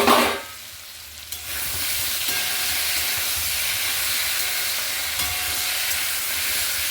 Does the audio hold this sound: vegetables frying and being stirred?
yes